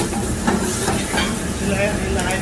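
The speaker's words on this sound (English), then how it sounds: "Still in the high flame, and we are keep sauteing." Goat stomach curry with red chili powder sautéing in a pan over a high flame, a dense steady sizzle and hiss with stirring scrapes, loud and close, with a voice faintly underneath.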